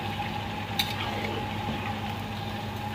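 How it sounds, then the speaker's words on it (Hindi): Chicken curry with masala frying in oil, heard as a constant dense sizzle close up with a faint clink of utensils. "अभी मसाला डालने के बाद कम से कम 15 से 20 मिनट अच्छा तरीके से फ्राई करेंगे"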